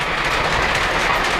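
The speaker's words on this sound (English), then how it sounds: "The Polar Express freight train is moving on the lower level." A Polar Express model freight train runs steadily along a layout track, giving a continuous near rolling rumble with light clickety-clack from the wagons and no talk.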